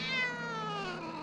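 A cat gives one loud, drawn-out meow that slides downward in pitch, heard alone and close for just over a second.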